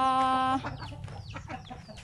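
A chicken gives a loud, sustained squawk, followed by softer scattered clucking and bird calls from backyard chickens and ducks over a low background rumble.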